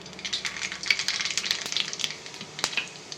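Mustard and cumin seeds sizzle in three tablespoons of hot oil in a kadai, a steady close crackling hiss with small pops throughout, no voices.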